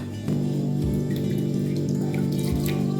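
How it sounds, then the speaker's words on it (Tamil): Black rice being washed in water, a steady running-water wash with small splashes and sloshing close by, without talk. "ரெண்டு மூணு கழுவு கழுவி எடுத்துருங்க"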